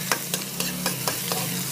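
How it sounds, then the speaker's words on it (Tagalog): Ginger frying in a pan for chicken curry is stirred with a utensil, giving a steady low sizzle broken by about six evenly spaced scraping strokes, close and clear without talk. "Mix-mix lang natin siya."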